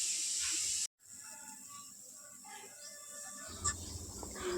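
Fresh ginger pieces fry in a spoonful of oil in a kadai with a faint, steady sizzling hiss, close by and continuous, with a light crackle toward the end.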